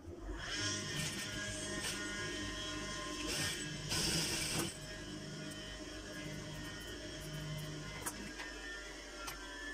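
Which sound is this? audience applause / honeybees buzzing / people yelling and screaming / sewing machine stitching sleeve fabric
sewing machine stitching sleeve fabric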